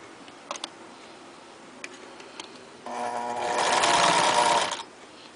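A domestic sewing machine stitching cloth for a handmade rag doll, starting after a few light clicks and running steadily for about two seconds with a rising whirring hum before stopping.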